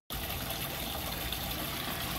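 A pump runs steadily, pushing a constant gush of water through a Yamaha outboard motor during a long water-and-vinegar engine flush, a dense unbroken rush from start to finish.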